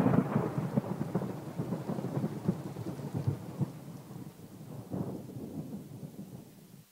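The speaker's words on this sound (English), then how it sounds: "Because after you get struck by lightning, there's thunder." Thunder sound effect in a radio advertisement: a long rolling rumble with crackling rain, loud at first and gradually fading away, with no voices over it.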